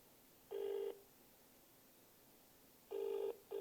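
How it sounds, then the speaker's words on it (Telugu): A telephone rings in short electronic bursts, one tone followed by a pause and then two more rings close together, with no talking. "ఫోన్ రింగ్ అవుతుంది"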